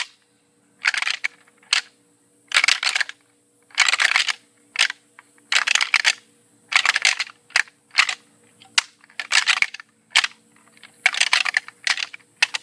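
Deer antlers rattled hard together for calling bucks, sharp clattering bursts in repeated quick clusters separated by brief pauses, close and loud with no talk.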